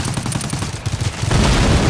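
Gunfire in the co-op shooter GTFO, a dense burst of loud shots that builds to a sustained roar in the second half, with a voice counting down just before.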